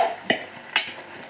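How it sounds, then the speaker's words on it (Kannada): Ground masala is stirred into an ivy gourd and green peas curry, with two distinct scraping clinks of a utensil against the pot amid soft wet stirring, close and quiet. "ಮಸಾಲೆನ ಮಿಕ್ಸ್ ಮಾಡ್ತಾ ಇದ್ದೀನಿ."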